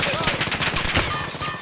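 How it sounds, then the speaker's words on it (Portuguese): Rapid automatic gunfire from the video game Call of Duty: Modern Warfare, with dense overlapping bursts rattling without pause. The shots sound close and loud throughout. "Estão atirando aqui."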